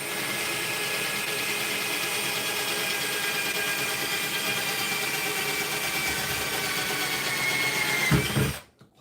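Metal being punched and scraped with a pointed screwdriver while making a woodgas stove, a steady harsh grinding-scraping noise held loud and close for about eight seconds before it cuts off abruptly.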